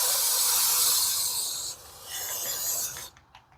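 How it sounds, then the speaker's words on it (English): A close, steady aerosol spray of brake cleaner on a Ford Explorer's rear brakes hisses for a couple of seconds, pauses briefly, then sprays again before cutting off. "I'm gonna take a little brake cleaner and spray it."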